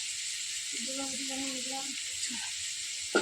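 Prawns frying in a pan, a steady hiss of sizzling oil running through the whole moment, with a voice speaking over it.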